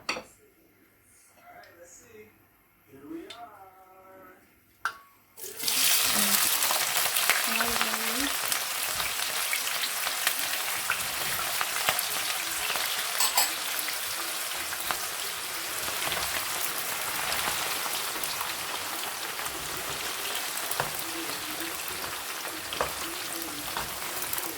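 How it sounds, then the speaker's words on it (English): Onion sizzling steadily in a hot pan while spinach stew (palava sauce, kontomire) is being made, a constant dense crackle after a few seconds of quieter kitchen sounds and brief talk at the start. "So whilst the onion is frying"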